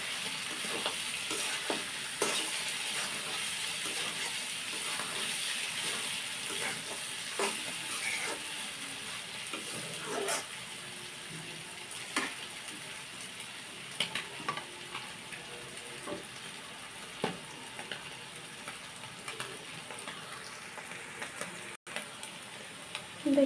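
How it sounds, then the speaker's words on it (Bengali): Vegetable bhaji fritters sizzle steadily in a pan, a constant close hiss broken by scattered pops and light scraping as they are stirred now and then. "ভাজিটা একটু নাড়া দিয়ে দেবো, ফ্রাই হয়ে এসেছে।"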